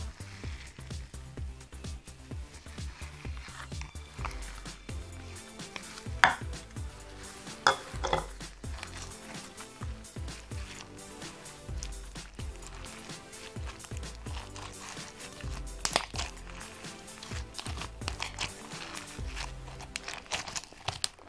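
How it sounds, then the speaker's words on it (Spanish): Crunchy slime with plenty of angel wing mixed in, worked by hand into a steady stream of close, soft crackling, squishing and crinkling with occasional sharper pops. "Vamos a mezclar muy bien nuestra ala de ángel."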